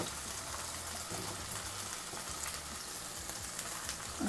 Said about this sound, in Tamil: இப்போ இதில் வந்து நம்ம எடுத்து வச்சுருக்க காய்கறியெல்லாம் சேர்த்துடலாம்.